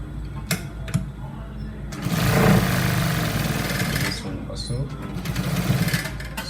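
A sewing machine stitches a curved seam on trousers in rapid whirring bursts that stop and start, close by, with a person talking between and over the runs.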